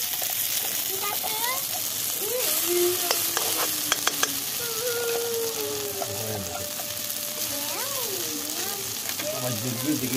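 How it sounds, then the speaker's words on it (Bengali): Green pea paste frying in mustard oil in a hot wok gives a continuous close hiss and crackle with stirring noises, while a voice talks faintly in the background. "এবার মটরশুঁটি পেস্টটা দিয়ে দিলাম"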